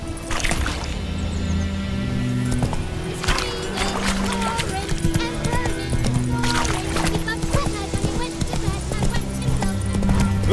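Galloping horse hooves in the Witcher 3 video game, a steady clip-clop rhythm over continuous game music and ambience, with a voice speaking over it.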